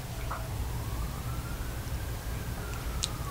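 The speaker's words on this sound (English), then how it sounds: "ambulance, a siren, fire truck" A faint, distant siren rises and falls, barely above steady rain or traffic noise that fills the background.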